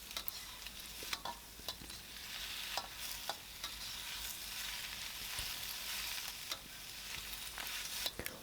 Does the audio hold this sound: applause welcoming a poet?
no